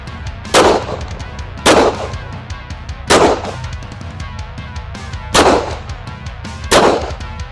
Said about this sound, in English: I think I shoot better moving than I do not moving.